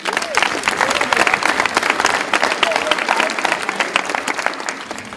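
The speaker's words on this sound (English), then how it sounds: "Clap it up for Mike Wood." An audience at a basketball camp claps in a dense, sustained round of applause, with some voices heard faintly amid the clapping.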